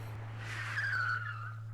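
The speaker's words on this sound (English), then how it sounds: "tonight there were more trucks going in and out than usual" A truck drives out of a large cargo storehouse in Chinatown at night, giving one rising and falling tire screech over a steady low mechanical hum.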